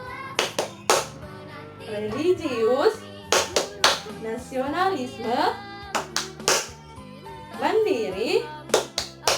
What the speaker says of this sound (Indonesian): supaya lebih semangat, kita tepuk PPK dulu deh